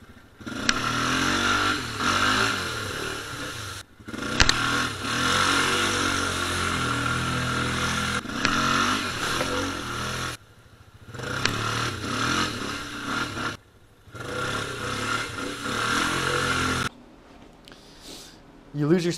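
A Honda Rincon 680 ATV with 20% gear reduction and 28-inch tires churning through mud, its engine droning and revving loudly in long sustained bursts separated by short gaps.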